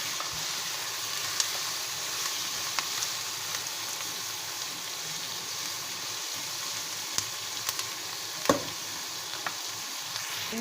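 Cashews frying in a pan with softened tomatoes for Pakistani-style butter chicken, a dense continuous sizzle held at an even level, close, with a few faint clicks and one brief knock.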